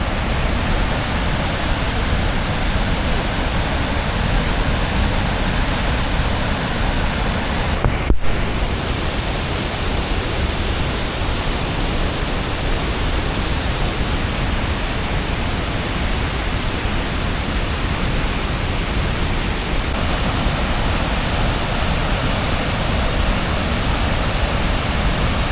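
Godafoss waterfall in Iceland roars as a steady, dense wash of falling water, loud and continuous throughout with no voices over it.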